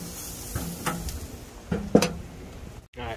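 Meat sizzling on a grill being flipped, soft steady frying hiss with a few scrapes and clinks of the spatula, close and fairly quiet.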